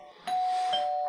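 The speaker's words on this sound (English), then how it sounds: "Who's ringing my doorbell this late?" A doorbell rings once late at night, a single sustained electronic chime tone that starts abruptly and holds, fairly loud and alone.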